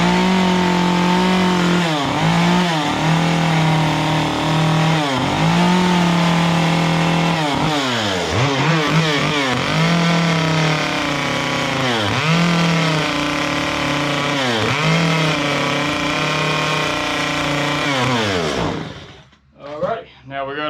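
A chainsaw carves a wooden cardinal bird, its engine roaring loud and close throughout, rising and dipping in pitch as it bites into the wood, before cutting off near the end.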